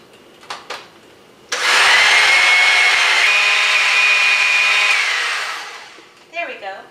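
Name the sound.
blender mixing cream cheese cheesecake batter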